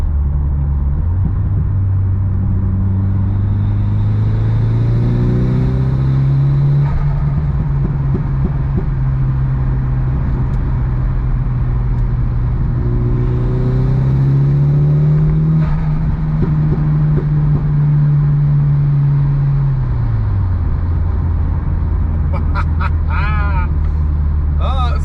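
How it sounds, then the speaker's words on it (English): A Mitsubishi Evo 8 with its blow-off valve deleted drones loudly as the engine rises and falls in pitch through two pulls, turbo spooling over a heavy steady rumble, with a faint chirp near the end. "hopefully you'll hear some really good spooling noises, because the car makes those a lot better now that that blow-off valve has been deleted"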